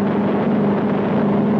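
A piston-engined aircraft roars at full power for an accelerated takeoff from a Royal Navy carrier flight deck in 1942, giving a steady, loud drone with a strong low hum that stays even for the whole short stretch.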